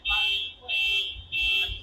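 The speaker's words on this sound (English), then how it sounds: "car alarm" A car alarm gives three long, steady, piercing electronic tones in a repeating on-off pattern, each lasting about half a second. It sounds fairly loud, with a faint low rumble beneath.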